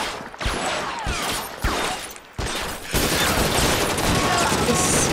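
Sustained gunfire during a shootout in the video game L.A. Noire, with repeated sharp shots and bursts crackling over a dense, loud, continuous bed of combat noise that swells even louder near the end.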